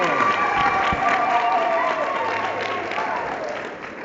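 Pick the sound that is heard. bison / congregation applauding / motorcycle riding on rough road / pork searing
congregation applauding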